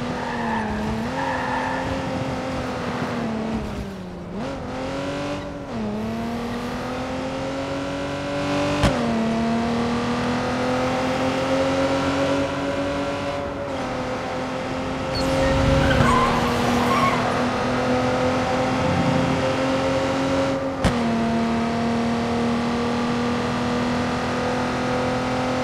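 A car in the video game Watch Dogs 2 drives steadily with a droning engine, shifting pitch as it accelerates, and skids with long tire squeals midway through, loud and continuous.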